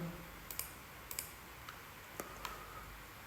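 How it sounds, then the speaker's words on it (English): Sparse, faint mouse clicks while working in ANSYS Fluent meshing software: a few sharp single and double clicks spaced irregularly over a quiet background, with no talking. "and then click on apply"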